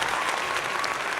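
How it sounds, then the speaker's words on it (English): A short applause sound effect played on a podcast, steady clapping crowd at moderate level filling the brief moment on its own. "I had to play the applause for myself."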